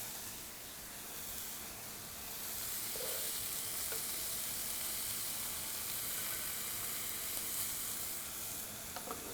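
Gyro meat slices fry in a pan to brown lightly, a soft, steady, continuous sizzle with faint occasional taps, at moderate distance and low level, with no talking.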